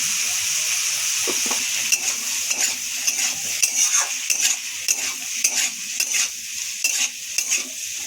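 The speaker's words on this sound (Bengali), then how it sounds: "আলু ভাজা হয়ে গেছে, এবার উঠে নিচ্ছি," Potatoes frying in a pan with salt and turmeric, a steady sizzle under a series of rhythmic spatula scrapes and taps against the pan, close and without talk.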